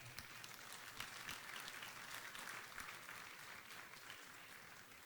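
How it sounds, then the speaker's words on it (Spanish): A church congregation at a general worship meeting breaks into sustained applause, a dense continuous patter of many hands lasting throughout, moderately distant and without speech. "¿Por qué no le da un aplauso al Señor?"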